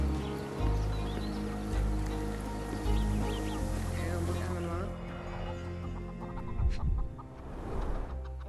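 Background chickens cluck and chatter in the game Sherlock Holmes Chapter One, intermittent fowl calls layered over a dense low ambient drone that eases off near the end.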